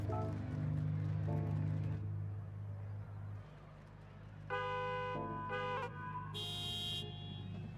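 Car horns honking in the Gran Turismo 7 racing game, several bursts of bright tonal toots at different pitches in the latter half, over a low steady engine drone.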